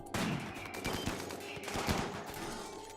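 Colonists firing guns at a crashed ship part in Rimworld, rapid overlapping bursts of gunfire cracking close and loud, shot after shot in a ragged volley with no pause.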